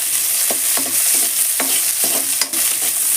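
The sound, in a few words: onions frying in hot oil for gongura chutney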